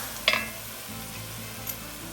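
Pressed garlic sizzles steadily in a pot for a spicy andouille sausage and shrimp gumbo, with a close, continuous frying hiss broken by a couple of brief clinks of a stirring utensil.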